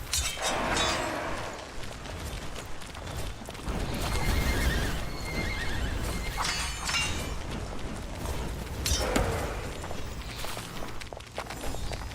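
Horses in the dungeon-management game Dungeons 4 neigh and whinny repeatedly amid clip-clopping hooves, creaks and mechanical game noises, loud and close over a dense, busy in-game soundscape without speech.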